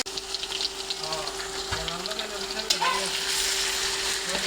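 Garlic and green chili sizzle in hot oil alongside dried red chilies while cooking radish greens, a loud, steady frying hiss close by with a brief stirring clatter partway through.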